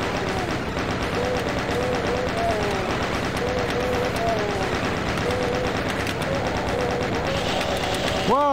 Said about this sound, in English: Minigun's essential here.